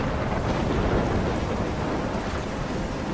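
A thunderstorm in the video game Life is Strange: a constant, loud wash of heavy rain and wind with low rumbling, close and dense, with no voices.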